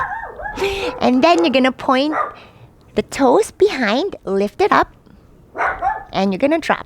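During a beginner yoga class indoors, an instructor talks steadily while a dog barks and yips intermittently underneath, partly masked by the voice.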